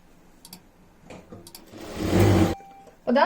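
A sewing machine stitching along the side of a blanket, a short steady whirring run of close needle clatter after a few faint ticks, then stopping abruptly.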